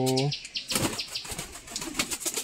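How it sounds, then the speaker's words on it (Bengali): A pet pigeon gives a short coo, followed by a close run of quick wing flaps and fluttering that rise and fall in bursts. "এই যে হচ্ছে আমার সেই পায়রাটা"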